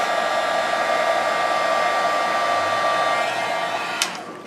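A heat gun blows steadily and loudly while melting embossing powder on a handmade card, a constant close whooshing roar with a brief click near the end as it is switched off.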